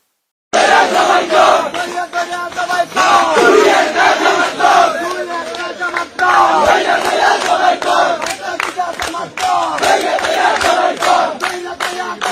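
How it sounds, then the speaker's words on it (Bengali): A large crowd of BNP supporters celebrating an election win chants political slogans in loud, rhythmic unison bursts that continue for the whole stretch. "ইলেকশনে জিতে আওয়ামী লীগের স্লোগান দিতেছে বিএনপি"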